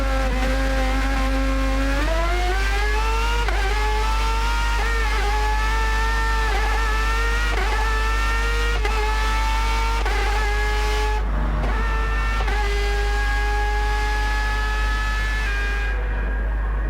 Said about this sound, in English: Those engines are gorgeous to hear.